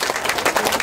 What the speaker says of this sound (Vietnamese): một tràng pháo tay thật lớn để chúng ta đón tiếp màn nhạc cảnh về miền Nam